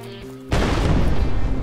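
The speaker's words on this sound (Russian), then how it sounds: "Она, кстати, заминированная, она уже автором заминирована. Давай, взрывай ее." A booby-trapped Lego building blowing up in the video game Brick Rigs, heard as a sudden loud, dense blast that erupts after a brief quieter lead-in and keeps rumbling to the end.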